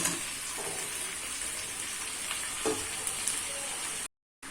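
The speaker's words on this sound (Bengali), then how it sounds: "দেখুন আলুর সাথে চিকেনটা আমি কষিয়ে নিচ্ছি" Chicken and potatoes sizzle and fry in a pan as they are sautéed for a coriander chicken curry, a steady loud crackle with a few stirring scrapes, close up, breaking off briefly near the end.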